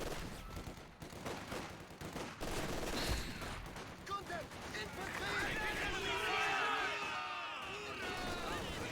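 Machine gun fire in a Company of Heroes 2 tournament match, with bursts of rattling gunfire and scattered shots from an MG setup and infantry. The firing runs steadily under continuous commentary.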